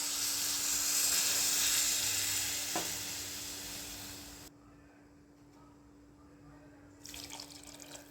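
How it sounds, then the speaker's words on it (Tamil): Water is poured into hot, sizzling masala in a pan while dried-fish thokku cooks. A loud rushing hiss lasts about four seconds, then drops to a quiet simmer before a softer sizzle returns near the end. "இப்போ 1 டம்ளர் தண்ணி ஊற்றுவோம்."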